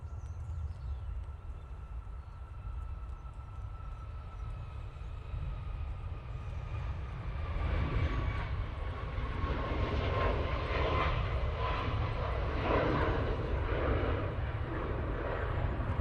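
A Ryanair Boeing 737 MAX 8 rolls for takeoff at Manchester Airport, a steady jet roar that swells and thickens halfway through, heard from a distance with no talk.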